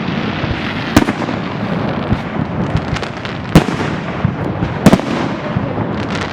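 Fireworks crackle and boom continuously in the distance over trees, with a few sharper, louder bangs standing out over the rumbling, echoing din.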